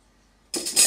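Violet infusion poured through a fine mesh sieve lined with a coffee filter, a sudden close splashing pour that starts halfway and swells louder toward the end.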